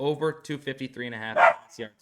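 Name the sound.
dog barking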